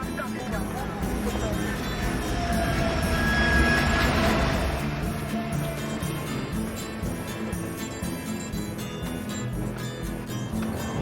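A train runs along the tracks with a continuous broad rumble and rattling, a faint rising whine in the middle, steady and close throughout.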